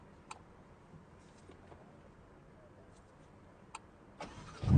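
A Ferrari Roma engine starting: near silence with a few faint clicks, then near the end the starter catches and the engine fires into a loud, rising roar.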